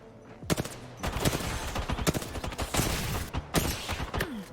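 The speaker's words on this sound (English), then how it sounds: "I'm going to peek out, I'm going to shoot at you" Gunfire in a shooter video game, with rapid bursts and single sharp shots trading back and forth in quick succession, close and crisp over a quiet background.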